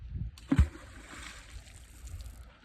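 A stone thrown into a river lands with a single soft splash, followed by faint trickling water, quiet and without speech.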